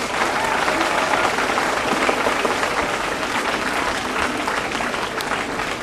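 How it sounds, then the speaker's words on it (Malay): Sustained applause from a large crowd at a fire drill event, steady and dense clapping throughout with no pauses. "Dan beri tepukan juga"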